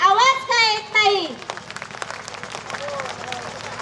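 Audience clapping at a village school cultural festival breaks out right after a brief amplified voice, a broad crackling burst of many hands that carries on steadily to the end.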